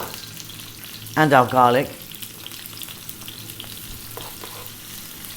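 Onion and garlic fry in a pan over above-medium heat, giving a steady close sizzle that runs throughout, with a few stirring scrapes and a short spoken phrase near the start.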